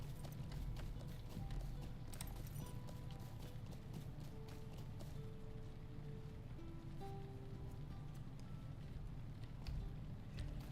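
Horse hooves clip-clop steadily in the Lord of the Rings Online game, a continuous rhythmic trotting under game music and ambience with no talk.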